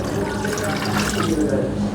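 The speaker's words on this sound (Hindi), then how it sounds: "अब इसमें हमने पानी डाल के इसको डिप करके छोड़ देना है चिकन को।" Water being poured into a pot over chicken leg pieces for restaurant-style chicken mandi, a steady gushing flow like a running tap, loud and close for the whole moment.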